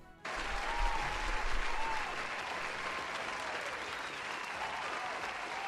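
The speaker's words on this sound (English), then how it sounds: "Let's give them a round of applause." Applause breaks out suddenly and holds steady, a dense crowd clapping loudly for several seconds.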